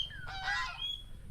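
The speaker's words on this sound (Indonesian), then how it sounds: "Dan di sini juga ada tuh angsa ya" A single goose honks nearby, a raspy nasal call rising and falling over about a second, against quiet outdoor background noise.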